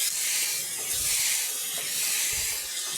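Soya bread slices frying in a pan for a spicy-sweet fry, giving a continuous bright hiss that swells and eases, with a couple of soft low knocks from stirring; no talking.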